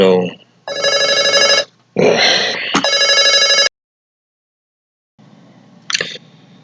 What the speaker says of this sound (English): you leave your phone right next to you, and you get a damn phone call